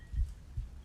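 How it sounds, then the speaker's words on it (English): A heartbeat in the horror video game Cry of Fear, two deep, muffled low thumps in a slow rhythm, alone against a quiet background. "Can still hear the heartbeat happening."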